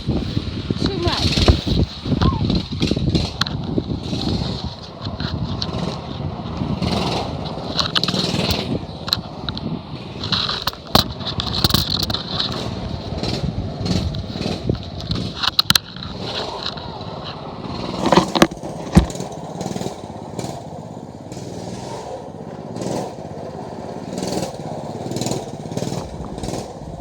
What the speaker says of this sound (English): I don't really like this dirt bike. It makes too much noise.